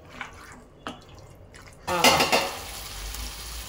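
Chicken curry with ginger-garlic paste and tomato, cooked dhaba style, stirred in a pot: quiet scattered clinks, then a brief louder burst of spoon scraping and clattering against the metal around the middle.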